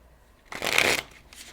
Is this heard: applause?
no